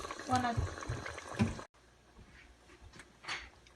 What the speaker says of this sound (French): Maintenant, nous allons ajouter un peu de l'eau.